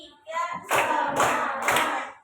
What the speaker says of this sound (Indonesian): Ya semuanya tepuk 1, tepuk 2, tepuk 3